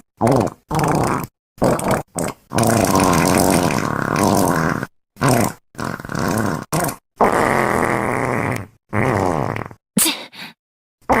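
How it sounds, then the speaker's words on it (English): A farting sound effect from a remastered game: a series of loud, buzzy, sputtering bursts of varying length, separated by brief silences. "that's how the farting sound effect sounds like"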